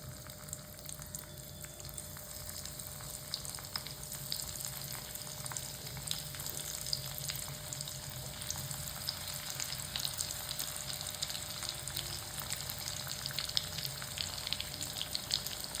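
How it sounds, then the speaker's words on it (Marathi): Okra pieces frying in hot oil with cumin, a steady, faint, continuous sizzle with fine crackling throughout and no talking. "आता आपण त्याच्यात एक एक भेंडी सोडूया तेलामध्ये"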